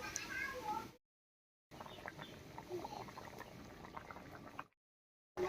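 Sea fish curry bubbles in a pot, a faint continuous patter of boiling liquid broken by moments of silence.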